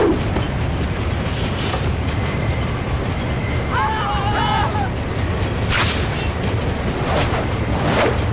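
A moving train in the video game Spider-Man 3 rumbles steadily with a low rolling roar and faint rhythmic clatter, continuous throughout, with a brief tonal sound effect and a short burst of noise partway through.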